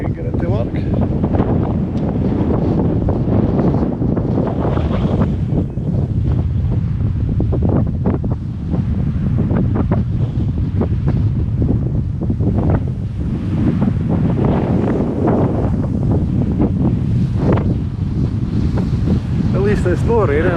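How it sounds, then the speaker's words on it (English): Strong wind buffets the microphone at a Cannock Chase campsite, a constant loud roar that surges and dips throughout. "It's not raining, but it's windy."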